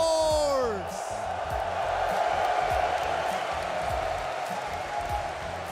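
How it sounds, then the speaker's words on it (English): A large crowd at a Rocket League esports major in London roars and cheers continuously in a big hall, with whoops rising at the start before settling into a sustained rumble. "You can hear from the roar of the crowd that you are the team here"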